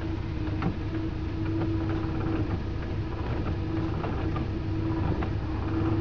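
A car's windshield wiper and washer run after a new wiper delay module is fitted, giving a steady mechanical hum with faint recurring clicks and whirs at moderate loudness, with no voices.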